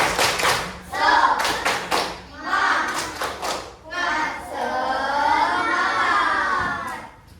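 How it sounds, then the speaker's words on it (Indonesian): A school class performs tepuk semangat, a rhythmic spirit-clapping chant, with bursts of group claps in patterned rhythm mixed with children's voices shouting along, fairly loud and close in a classroom. "Tepuk semangat dulu, ayo."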